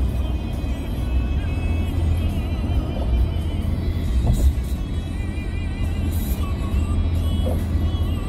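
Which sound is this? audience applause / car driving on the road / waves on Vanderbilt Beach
car driving on the road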